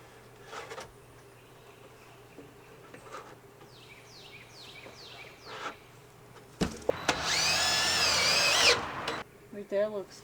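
A power drill drives screws into porch framing for a house balcony, first in a few short whirring bursts, then one loud sustained run of several seconds, with people talking quietly around it.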